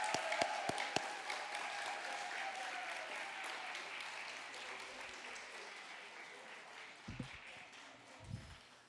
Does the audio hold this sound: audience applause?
yes